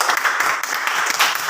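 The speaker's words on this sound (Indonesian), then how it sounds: "tepuk tangan untuk kelompok 1" Classroom applause for a student group after their presentation, a dense, steady patter of many hands clapping together for a second and a half.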